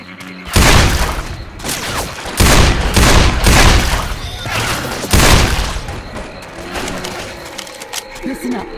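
Pistol shots ring out in Left 4 Dead 2 gameplay, a few loud sharp bursts spaced a couple of seconds apart over a busy game backdrop.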